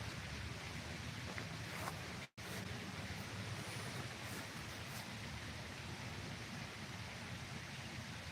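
Light rain falls steadily outdoors as a soft, even hiss that stays constant throughout, with one brief dropout partway through and no voices.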